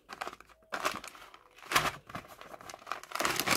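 A foil-backed package of blue hard wax beads for hair removal, with a clear front, crinkles and crackles in bursts as it is torn open close by.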